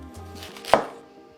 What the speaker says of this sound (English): Just start chopping away.